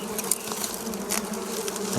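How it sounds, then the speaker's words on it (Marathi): Honeybees swarming around a hive as the comb is broken apart, a dense, continuous close-up buzz that holds steady with no voices. "बे हे माश्या आहेत"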